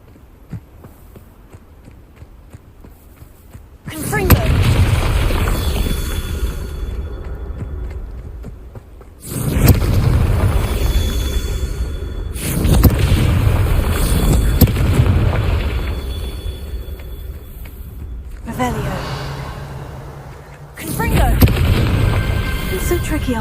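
Booming fire-spell explosions from Hogwarts Legacy, four heavy blasts several seconds apart, each a loud broadband burst that rumbles and fades, with a shouted spell name in the mix.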